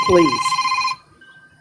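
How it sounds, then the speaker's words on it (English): A phone ringtone sounds loud and close, a tonal electronic ring under a brief spoken word before cutting off abruptly. "that's my phone"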